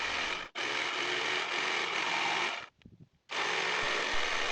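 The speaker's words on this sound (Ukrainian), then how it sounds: "розмітити та відрізати залишки лобзиком електричним, що я зараз і буду робити" Electric jigsaw cutting through a wooden countertop board, a loud steady buzzing cut running in two long passes with a brief pause and a short sputter between them, close by with no talk.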